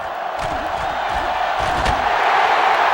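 A huge stadium crowd in the NCAA Football 2005 video game roars steadily and loudly, a dense wall of cheering and yelling with occasional thumps, sustained throughout without letup.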